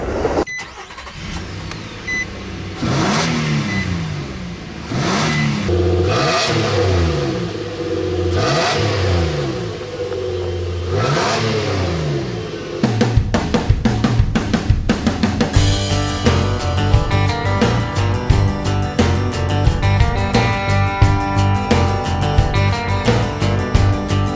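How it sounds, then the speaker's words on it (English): A 4-liter Nissan V6 in a 2015 Nissan Frontier with a 5-speed automatic revs up and down repeatedly, loud and close, then shifts into a steady harsher drone with rapid pulsing. "This is the venerable 4-liter Nissan V6, and it's hooked up to a 5-speed automatic transmission."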